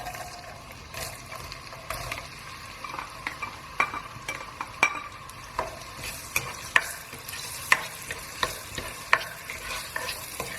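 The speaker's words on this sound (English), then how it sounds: "Once your oil is heated up nicely, we're going to add our diced onions." Diced onions frying in hot oil in a pot, a steady close sizzle broken by regular sharp scrapes and clicks of a utensil stirring, alone without voices.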